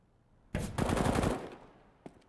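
A burst of automatic gunfire in a CS:GO match scores a headshot, heard as a rapid rattling volley of about a second that fades out, followed by a single short faint shot.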